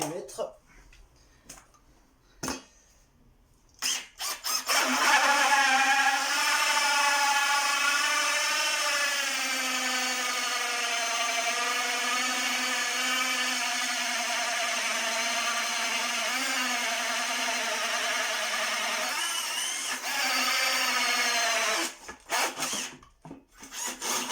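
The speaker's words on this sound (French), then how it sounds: "avec une scie cloche de 68 mm." An AEG BBH18C cordless rotary hammer with a 68 mm hole saw grinds steadily through wood for about seventeen seconds, its pitch wavering slightly, with brief clicks and handling noises before and after.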